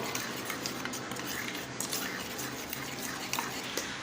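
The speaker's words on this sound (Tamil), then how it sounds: "இந்த மாதிரி அடிச்சு அடித்து கலந்து விட்டுக்கோங்க" A spoon whisking curd with spice powder in a bowl, a steady, fast stream of soft wet scraping and clinking, close and continuous, with no talk over it.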